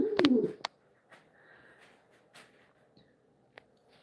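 Pigeon or dove cooing at close range, a loud burst of low coos at the start followed by a few softer calls and faint rustles in a quiet room.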